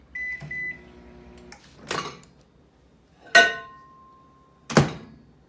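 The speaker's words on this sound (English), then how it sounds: "now we're going to stick this in the microwave for 1 minute" Microwave oven heating milk for one minute: a steady hum with a long beep, then a few clunks and thuds of the door and latch, a short tone, and another sharp knock near the end, with no talking.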